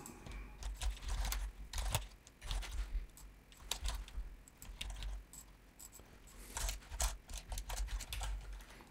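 Steady typing on a computer keyboard while filling an Excel spreadsheet with random data, irregular bursts of close key clicks and clacks with brief pauses, alone without talk.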